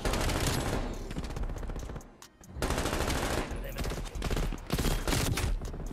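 Rapid bursts of LC10 submachine gun fire in Call of Duty: Cold War, dense and loud, nearly continuous with a brief pause around the middle before firing resumes.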